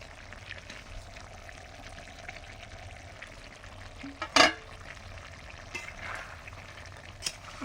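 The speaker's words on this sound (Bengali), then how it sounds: "ভেজে রাখা করলাটা দিয়ে দেবো এবারে।" Fried bitter gourd is tipped into a simmering koi fish curry, giving a steady low sizzle with a sharp clattering splash as the pieces land and a few later clinks of a utensil against the pan.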